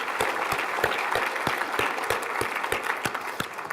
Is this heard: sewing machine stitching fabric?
no